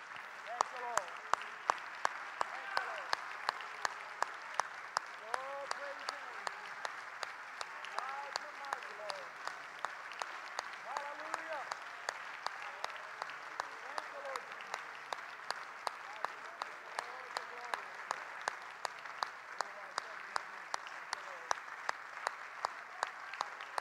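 A church congregation gives a sustained hand clap of praise at a Sunday graduation service, steady rhythmic clapping from many people lasting throughout, moderately distant, with a voice occasionally heard over it.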